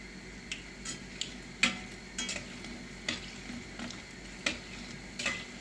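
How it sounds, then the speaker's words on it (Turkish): Lokma dough balls fry a second time in hot oil, making a faint, steady sizzle with occasional light clicks and stirring taps, close by and with no voices. "bir daha kızartıyoruz."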